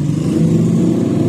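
A Honda Beat scooter engine with an intermittent sputtering fault runs close up, giving a steady, buzzing mid-pitched drone for a brief moment.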